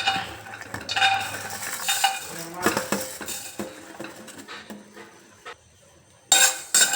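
Spices dry-roasting in a pan without oil for a bitter gourd pulusu, with irregular metallic scrapes, clinks and rattles of a spoon against the pan, some louder bursts, pauses of near silence, and no talking.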